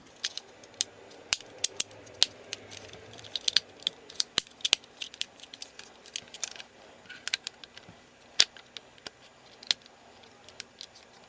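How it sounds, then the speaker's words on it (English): Plastic parts of a 1/48 Macross VF-1A model are unclipped and folded, giving sharp, close snaps and small clicks scattered irregularly through a quiet room. "Now unclip the backpack and fold forward."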